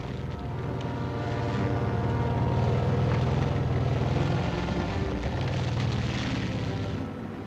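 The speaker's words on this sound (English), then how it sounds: "These are the sights and sounds of a full division on the move." A full army division of jeeps, trucks and support vehicles on the move, heard as a steady, heavy engine roar and rumble that swells and holds for several seconds before easing slightly.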